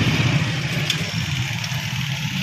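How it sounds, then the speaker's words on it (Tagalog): A noisy motorcycle engine runs steadily nearby at a rough, mid-pitched idle, joined by a faint hiss and some street ambience, and stops abruptly at the end. "may maingay na motor as usual"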